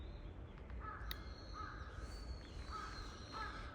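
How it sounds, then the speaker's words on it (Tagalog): Several crows caw repeatedly in the distance over a low, constant outdoor rumble in a Japanese forest in autumn. "Ayan, may mga uwak."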